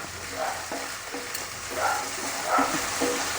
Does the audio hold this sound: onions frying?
yes